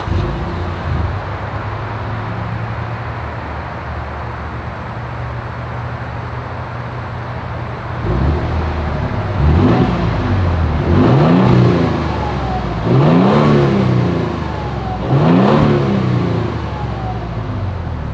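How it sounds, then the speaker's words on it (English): A 2022 Toyota Tundra Limited idles with a steady low exhaust burble, then gets four sharp revs spaced a couple of seconds apart, each rising and falling back, close and loud with no talking. "As always, here is that exhaust clip."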